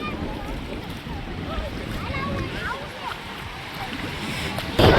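Sea waves wash along the shore at Ucha Kotda with a constant surging rush and splashes, mixed with some wind. People talk over the surf.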